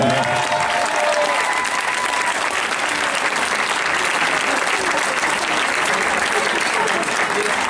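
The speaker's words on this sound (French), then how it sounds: "que j'aimerais que vous applaudissiez très fort, ouais" An audience at a children's show applauds loudly and continuously, dense clapping from a crowd filling the whole stretch, with some voices mixed in.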